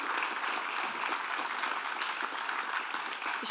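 Sustained audience applause greets the announcement of Carolina Allen as 2025 Steward of the Year at a fall forum, a dense, even wash of many hands clapping throughout.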